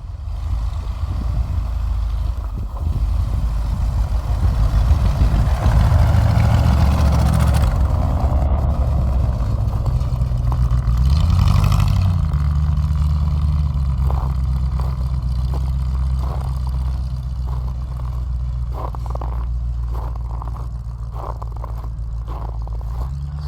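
An old Bombardier snow vehicle drives a loop around a yard on a brake test run, its engine rumbling and growling as it swells louder in passing, then settles into a steady idle-like drone.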